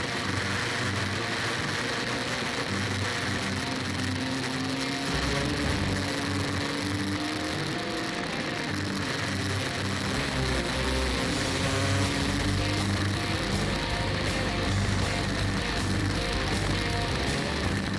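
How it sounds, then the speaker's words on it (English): An OKJ racing kart's engine screams at full throttle along the straight at Clay Pigeon Raceway, a constant high buzzing whine with pitch rising and dipping, getting louder and rougher toward the end. "the kart just dying slightly as I get the full throttle down the straight there"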